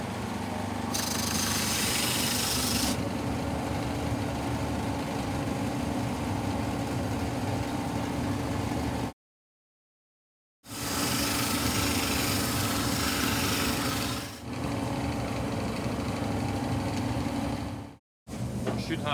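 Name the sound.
belt sander sanding wood mitre joint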